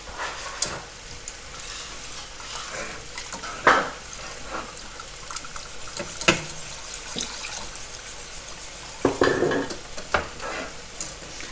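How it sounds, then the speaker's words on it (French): A whisk stirs milk being poured slowly into a béchamel in a pan, giving soft continuous swishing and faint sizzling with a few louder scraping strokes, close and without any talking. "Je verse doucement le lait et je tourne en même temps"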